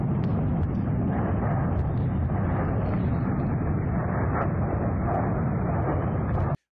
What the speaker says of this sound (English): For me, it's the follow-up explosions. It's the extra booms beneath it